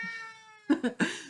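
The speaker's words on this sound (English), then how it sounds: "oh, that's my cat." A house cat meows close by, three short rising calls in quick succession, preceded by a fading sustained tone.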